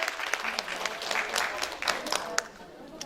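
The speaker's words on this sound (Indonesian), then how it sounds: "Tepuk tangan dulu dong buat Teh Yuli." Audience applause at a community health programme event, a short close round of clapping from a small crowd with uneven sharp claps, people talking faintly underneath.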